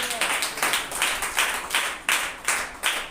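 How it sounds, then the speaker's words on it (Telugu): A church congregation at a Sunday service claps their hands in unison, giving a regular rhythmic beat of about three claps per second with slightly faint voices underneath. "చప్పట్లు కొట్టి ప్రభువుని గణపతి."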